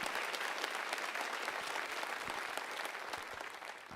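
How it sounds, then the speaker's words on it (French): A church congregation applauding together at a morning service, a dense, even wash of clapping that holds steady for the whole stretch and fades only slightly at the end. "Oui, applaudissons le Seigneur ce matin."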